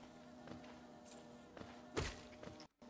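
Bees buzzing in the video game Hollow Knight, a faint steady drone with soft thuds scattered through it and a brief dropout near the end.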